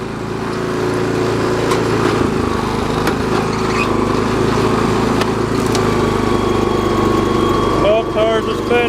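A project riding lawn mower fitted with a snow blade runs its engine at a steady, loud drone throughout, its tires spinning, with a brief voice near the end.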